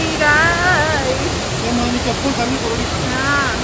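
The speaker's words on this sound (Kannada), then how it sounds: "ನೋಡಿ ಫಾಲ್ಸ್ ನೋಡಿ" Loud, steady rushing roar of a waterfall fills the clip, with a person's voice talking briefly over it.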